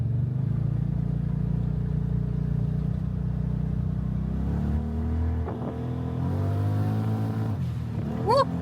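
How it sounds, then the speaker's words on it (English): Turbocharged truck engine revving hard at an off-road park, heard from inside the loud cab: a steady low drone that breaks into rising revs, then a sharp chirping whoosh from the blow-off valve near the end. "I'm really hoping the video you can hear the blow-off valve good"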